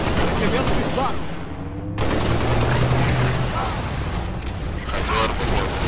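Rapid bursts of gunfire in the video game Halo: Reach crackle in a busy, dense mix, with a sharp cut partway through and muffled voices underneath.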